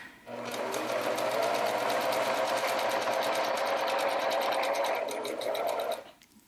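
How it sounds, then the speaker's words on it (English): A sewing machine stitching a buttonhole in fabric, running in one continuous fast, even burst of stitches for about five seconds before stopping. "I turn my dial to number one and I start sewing."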